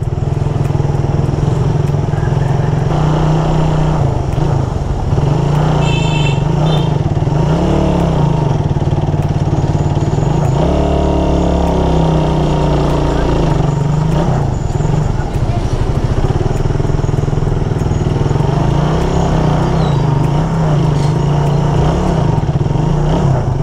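Suzuki Raider 150 motorcycle engine while riding, a loud continuous drone with rising and falling revs as the rider works the throttle and clutch, with wind noise and occasional talk.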